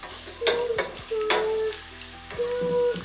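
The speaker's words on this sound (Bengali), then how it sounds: "পেঁয়াজটা ওইদিকে ফ্রাই হয়ে আসছে" Onions sizzle and fry in a pan while being stirred, with a few bursts of scraping and clinking over the steady frying hiss, close and loud, with no talk.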